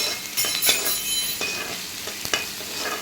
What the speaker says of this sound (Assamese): এতিয়া পিঁয়াজখিনি ফ্ৰাই কৰা হ'ব।